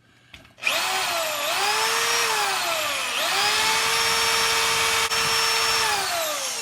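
Wire brush on a power drill whirs loudly at steady high speed while cleaning Cat 60 lifter parts, with a brief dip in pitch partway through and no speech.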